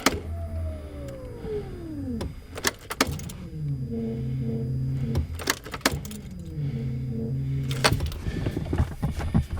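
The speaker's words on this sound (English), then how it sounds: "You can hear the fuel pump." A Honda Civic EF's fuel pump primes before its first start in over a year, giving a short electric whine that sinks in pitch, followed by sharp clicks and key jangles over a steady low hum, with no talking.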